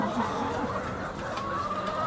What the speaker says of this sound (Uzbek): 6800 ta tovuq bor bu yerda.